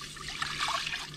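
Red wine is poured into a pasta pot, a steady soft liquid trickle and splash running close and continuous for a moment, with no talk over it.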